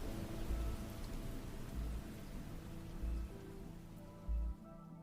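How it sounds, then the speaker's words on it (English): Steady rain falls as a soft, even hiss for several seconds with no voices, broken by a few low, brief thumps. "It rains."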